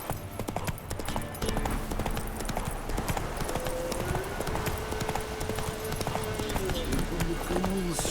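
Horse hooves clip-clopping at a steady gallop rhythm through a Witcher 3 game world, loud and continuous, with a voice speaking over the hoofbeats.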